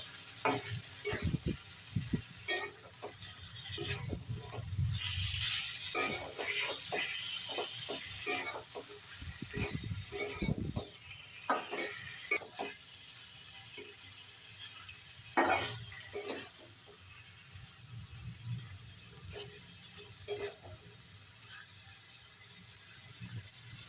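Pigeon meat stir-fried with spices in a pan, with steady sizzling and repeated scraping stirs of the spatula throughout, close and fairly loud, with no talking.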